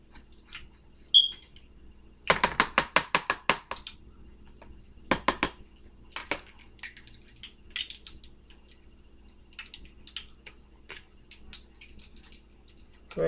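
Garlic cloves crushed in a kitchen garlic press give a quick burst of sharp metallic clicks and crunches, followed by scattered faint taps and clinks in a quiet kitchen.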